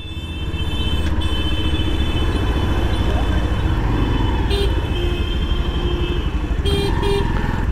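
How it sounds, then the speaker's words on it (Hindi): Busy Jaipur road traffic during political rallies, a constant dense roar of motorcycles and cars with short horn toots breaking through near the end, heard from a moving Yamaha FZ-S motorcycle. "ट्रैफिक हो रहा है पूरे जयपुर में"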